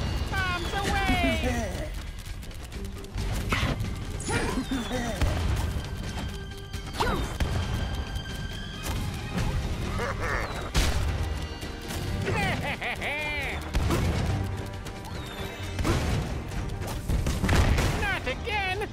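Repeated booming blasts and crashes of bombs in a busy Skylanders Trap Team game soundtrack, with character voices talking over the explosions.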